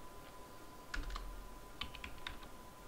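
Close, soft clicking of keys on a computer keyboard in two short bursts of typing, with a faint steady hum behind it.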